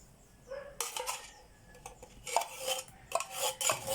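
A spoon scrapes and clatters against a bowl while nilupak is mixed with condensed milk, giving several bursts of close metallic stirring and rasping separated by short pauses, with no talk.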